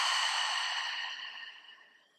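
A single long, soft exhale through the mouth during a yoga cleansing breath, fading gradually over about two seconds in a quiet room.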